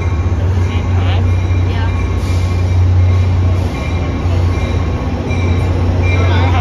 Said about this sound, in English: Remember how the train is vibrating?